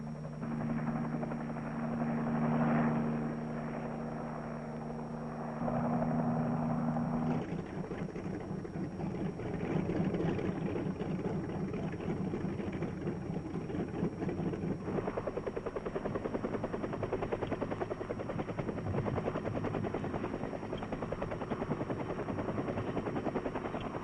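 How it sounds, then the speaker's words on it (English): US Army H-21 tandem-rotor troop carrier helicopters lifting off during operations in South Vietnam, a loud, steady whine and rotor drone throughout, changing in tone as the aircraft power up and depart, with no voices. "Then the troop carriers take off, well in advance of the H-21 group following."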